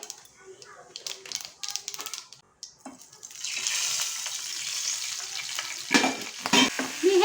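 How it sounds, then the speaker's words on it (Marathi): Sesame seeds and curry leaves hit hot oil for a dhokla tempering, bursting into a loud, steady sizzle and spatter partway through after some quieter clatter, with a voice talking over parts of it. "कधीपत्ता आपण ॲड करूया तुम्ही ह्याच्यामध्ये मिरच्या पण ॲड करू शकता थोडंसं मी तीळ ॲड करते आहे"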